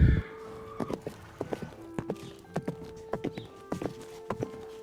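Hooves of a horse clip-clopping at a horse show, a steady run of distinct sharp knocks at a walking pace, fairly close, heard alone with a steady hum behind.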